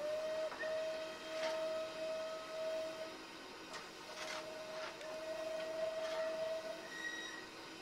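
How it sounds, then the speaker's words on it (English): Bulleid Light Pacific steam locomotive in Train Simulator 2021 sounding its whistle: several steady tonal blasts of varying length, some brief and some sustained, over a faint hiss and mechanical background, fairly quiet overall. "different whistle variations as well."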